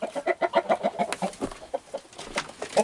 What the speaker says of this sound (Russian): куры, петухи не хотят выходить